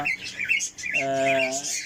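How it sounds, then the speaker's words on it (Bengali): Pet cockatiels chirp while eating, giving several short bright calls and then a sustained harmonic squawk, close and moderately loud. "ককাটেলগুলো দেখেন কীভাবে খেতেছে"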